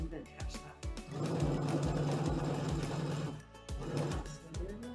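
A sewing machine stitches in reverse on placemat fabric with elastic, a close, rapid mechanical ticking whir that starts and stops in short bursts, with quiet talk in the background.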